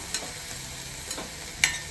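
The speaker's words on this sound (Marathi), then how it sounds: "जसा आपण तेलात कांदा परतवतो तसाच कांदा परतला जातोय" Chopped onion is stirred and sautéed in a pan with a little water and no oil, giving a faint, steady sizzle with three light clicks of a spoon against the pan.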